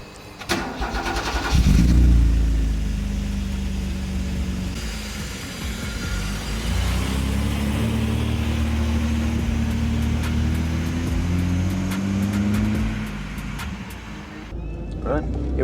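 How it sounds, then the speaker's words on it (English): A modified BMW E21 328i starts up and drives on the road, its engine droning steadily close by with rising and falling pitch as it pulls through the gears, while people talk over it. "Right, here we go, on the road in the E21."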